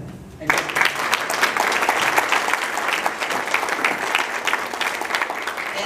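An audience claps for a solar car team at an event, dense and sustained applause that starts abruptly and keeps an even, lively patter throughout, fairly close and loud.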